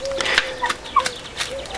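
Two three-and-a-half-month-old Faverolles and Marans pullets clucking softly, a few short murmuring chirps and clucks close by, no talk.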